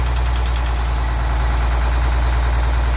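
A Detroit Diesel 6-71 two-stroke engine idles with a bad injector, a loud, steady, close-up low rumble with a fast rhythmic pulse and no voices.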